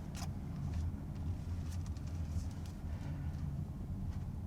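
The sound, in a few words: 2025 Toyota Corolla Hatchback SE driving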